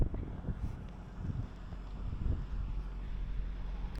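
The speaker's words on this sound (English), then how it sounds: "this rest area is a little bit windy" Low, gusty wind at a highway rest area in Wyoming buffeting the microphone, a steady rumbling roar with occasional stronger puffs, no voices.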